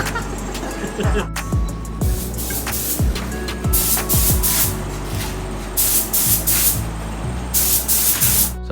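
Spray paint hisses in repeated short bursts as a first coat goes onto car wheels, each spurt loud and close, separated by brief gaps.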